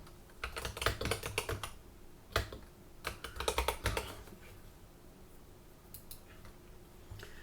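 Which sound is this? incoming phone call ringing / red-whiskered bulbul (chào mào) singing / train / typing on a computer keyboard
typing on a computer keyboard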